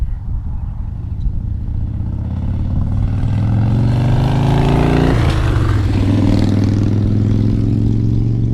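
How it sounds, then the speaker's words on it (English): A loud motorcycle engine drones nearby, its pitch rising as it accelerates, shifting gear midway, then holding a steady growl. "there's a motorcycle driving by"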